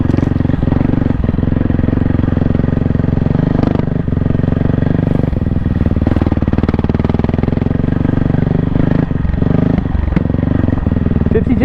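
A 2024 Kawasaki KLX300R dirt bike engine runs steadily at close range while riding cross-country and on climbs, a loud continuous mid-pitched drone with slight surges in revs throughout.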